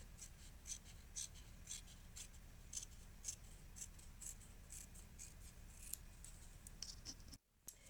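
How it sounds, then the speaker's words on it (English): Small scissors snip repeatedly in a quiet room, sharp little cuts coming roughly every half second, close by and faint. "take my little tiny weeny scissors and trim off the excess fabric around the edge"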